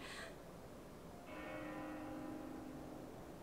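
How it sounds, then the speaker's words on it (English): A bell in Xenoblade Chronicles 2 rings once with a sustained, resonant tone that hangs for about a second before fading, faint and distant under a soft ambient bed. "That bell sound must be coming from somewhere."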